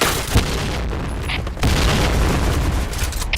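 A grenade blasts in an online shooter game, giving a loud, booming burst with a rumbling tail, followed by continued heavy gunfire and explosion noise.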